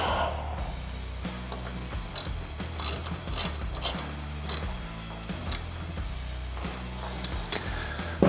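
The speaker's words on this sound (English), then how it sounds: "Tighten up this bolt there. And tighten up the set screw on the bottom." Ratchet wrench tightening a bolt and set screw on mini floorboards of a 2022 Harley-Davidson Low Rider ST, loud close clicking in bursts of rapid ratchet strokes with short pauses between them.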